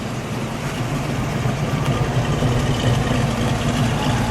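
A 1966 Sunbeam Tiger Mark I with its 260 cubic inch V8 idles steadily nearby, a continuous low rumble with no talk over it.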